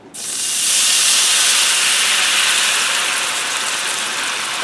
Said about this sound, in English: I'm going to add about a cup of white wine in here.